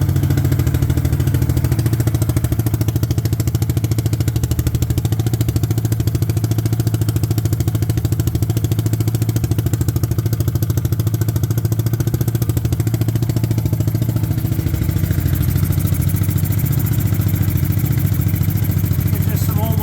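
A long-neglected Suzuki King Quad ATV engine runs steadily nearby, a loud, even low chugging idle with clattery mechanical noise, holding constant before a slight change in tone near the end.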